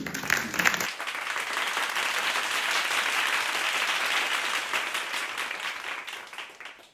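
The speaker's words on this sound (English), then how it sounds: "So, I would like one more round of applause." A storytelling audience at a Tellabration event in Kenosha, Wisconsin breaks into applause after a brief noisy start, sustained dense clapping that gradually tapers toward the close.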